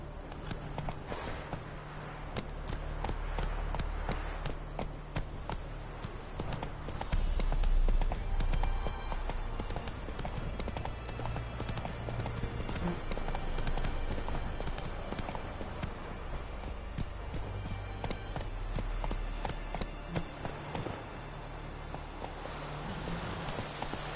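Hooves clip-clop in a steady, fast rhythm as a horse gallops in the Witcher 3 video game, continuous and fairly loud throughout under a constant bed of game ambience and music.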